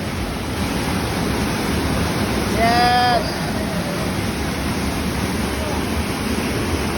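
Niagara Falls roars as a steady, loud broadband wash of falling water that fills the whole clip, while a voice briefly shouts over it near the middle.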